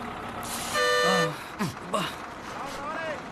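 A bus about to pull away sounds one sustained horn toot, near and fairly loud, amid voices talking and bustling street noise.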